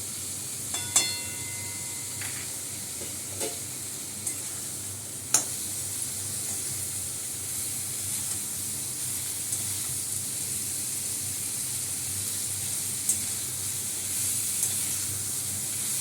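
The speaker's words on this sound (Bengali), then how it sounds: "আদা বাটা দিয়ে দিলাম, হলুদ গুঁড়ো লঙ্কা গুঁড়ো দিয়ে দিলাম" Ginger paste, turmeric and chili powder sizzle in hot oil with potato pieces as they are stirred, a steady close hiss broken by a few sharp clinks of the spoon against the pan.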